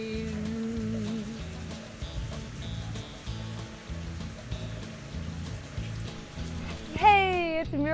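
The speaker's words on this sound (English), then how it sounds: "And this is what it looks like with a big rain." Rain hisses steadily and evenly throughout, with a soft low rhythmic thumping underneath and a brief whistling tone near the end.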